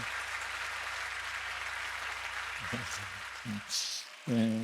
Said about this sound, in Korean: 우리 뜨거운 박수로 축복해 주시기 바랍니다.